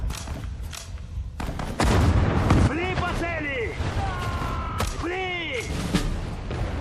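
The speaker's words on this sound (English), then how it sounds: "Let's fire grenades at them." Grenades fired at an anti-air gun in the Sudden Strike 4 Battle of Moscow strategy game, heard as a heavy blast followed by rumbling explosions and whistling debris, with a voice speaking over the din.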